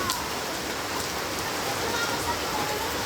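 Steady, hissing rain falls continuously, a dense even patter with no breaks.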